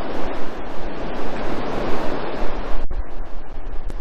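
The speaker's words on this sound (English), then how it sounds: "The sea surges and it's filling up these like sort of little pools, well, big pools." Sea waves surging into large rock pools along a coast, a loud, continuous rushing wash of water with gusty wind buffeting, no voices present.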